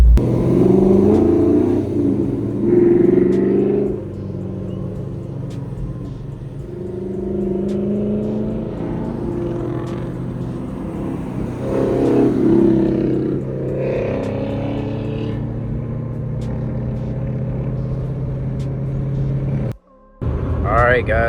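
A Ford GT500 with an aftermarket exhaust and its secondary cats, muffler and resonator deleted, loud droning engine rumble that swells with revs, passing close, with voices talking over it.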